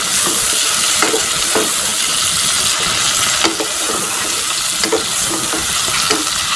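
Okra with chillies, turmeric and salt being stirred in a frying pan, giving a loud, steady sizzle broken by repeated scraping knocks of the spatula.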